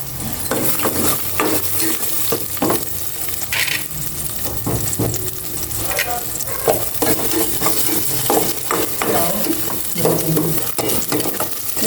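Sliced onion drops into hot oil in a home kitchen pan and fries with a loud, steady sizzle, while a utensil clatters and scrapes against the pan over and over, with no talking.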